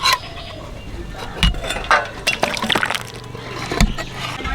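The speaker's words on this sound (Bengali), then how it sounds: "মাংসটা সেদ্ধ করার জন্য সামান্য জল দিচ্ছি" Water splashes into chicken cooking in a pan for lemon chicken, with irregular pouring and sloshing bursts and a few clinks, close up and moderately loud.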